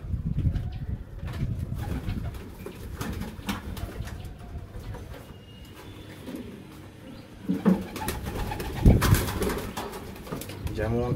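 Domestic high-flying pigeons coo steadily at a home loft, a dense, continuous, close-up murmur of throaty calls with a few brief louder flutters and bursts near the end.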